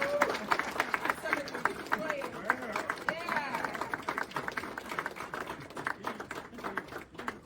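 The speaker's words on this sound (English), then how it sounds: "A round of applause for Joe." Dense, steady applause from an audience at a Black Heritage Month conference, many hands clapping continuously at moderate volume with voices mixed in.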